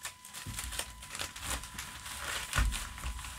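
A stack of Korean Pokémon Ancient Roar booster cards is shuffled close by, giving faint crinkling and rustling with a few sharper card slaps, quiet and uneven over a few seconds.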